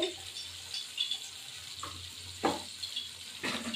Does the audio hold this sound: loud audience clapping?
no